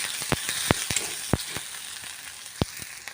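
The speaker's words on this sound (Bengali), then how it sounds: "তো দেখো পেঁয়াজটা ভাজা হয়ে গেছে।" Onion frying in a pan while steamed katla fish is prepared, a soft continuous sizzle broken by sharp crackles and pops at uneven intervals, with no talk.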